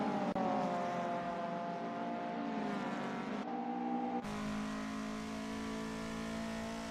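Racing engines of MK1 Golf Cup cars in the SimSpeed racing game, a steady moderately quiet drone with pitch shifts as gears change, running alone without voices.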